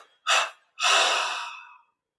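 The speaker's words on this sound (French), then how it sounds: "Puis on prend une inspiration profonde. On expire en 3 fois." A deep breath drawn in during a guided Kriya Yoga meditation, then a long exhale, both close and breathy with a pause between; the outbreath trails off smoothly rather than in distinct parts.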